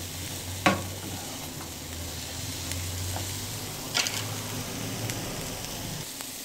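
Peppers and celery sizzle steadily in a pan while being stirred, with a couple of sharper scraping clacks from the utensil over the constant frying hiss; no one speaks.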